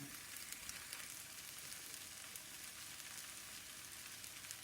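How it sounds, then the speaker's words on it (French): Meat frying with onions in olive oil in a pan gives off a steady, faint, even sizzle that continues unbroken throughout, with no voices. "On va la faire cuire un petit peu dans les oignons"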